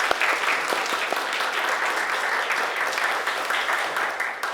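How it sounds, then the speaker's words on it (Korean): A church congregation claps in sustained, dense applause for a choir at an anniversary service, steady and fairly close throughout the short stretch, with no speech over it. "박수로 격려했으면 좋겠습니다."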